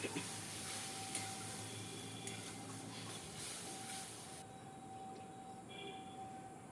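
Ground spices sizzling in a pan as they are sautéed with a little water, a steady close hiss and spatter that dies down partway through.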